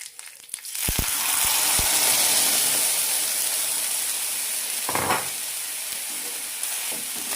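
Chili chutney poured into hot tempering oil with mustard seeds and curry leaves, a few pops followed by a loud, steady sizzling hiss that continues throughout, with a brief stirring or scraping sound partway through.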